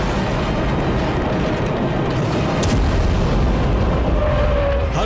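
Explosions from Israeli strikes on Iran rumble as a continuous, loud low-frequency roar of blasts and booms, heavy and sustained throughout with a sharper burst midway.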